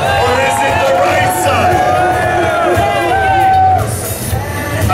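A crowd at a live dance event yells and cheers under a loud amplified voice, with a dense roar of shouts and babble throughout.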